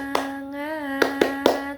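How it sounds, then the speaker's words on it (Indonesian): Classroom rhythmic spirit clap: a few sharp, close hand claps in a quick pattern, heard alongside a sustained sung voice in a children's class. "kita tepuk semangat dulu yuk, biar semuanya pada semangat."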